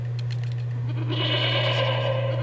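A goat bleats in a hockey video game, a drawn-out wavering call rising over a steady low electronic hum, fairly loud and alone.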